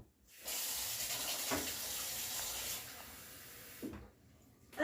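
Tap water runs steadily into a glass for moistening spices while cooking a roast leg of lamb, a continuous close splashing stream that starts, holds for about three seconds, then cuts off.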